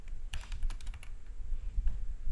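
Typing on a computer keyboard: a quick burst of several crisp key clicks early on, then a few scattered softer taps, close and clear over low room hum.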